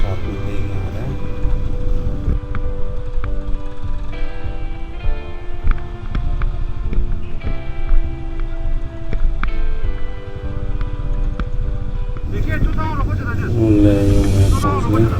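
A 2-litre motorcycle engine rumbles steadily and loudly through a group ride over slushy mountain roads from Dharamsala to Sarchu in Ladakh, with wind noise and another engine note rising near the end.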